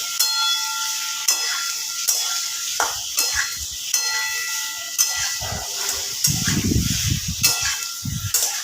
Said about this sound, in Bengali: ফ্লেমটাকে একটু ধরে দিয়ে লাউ আর আলুটা আমি ভাজা ভাজা করে নেব